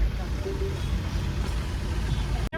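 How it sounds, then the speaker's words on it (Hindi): Traffic is jammed on a monsoon road near Mount Abu in Rajasthan, with a steady low rumble of idling engines and vehicles and a faint beep, heard close by without clear talking. "देखो ट्रैफिक देखो कितनी जाम है"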